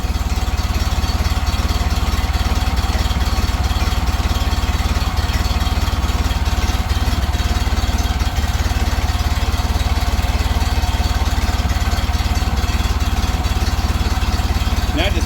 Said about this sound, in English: Little motor just a chugging away.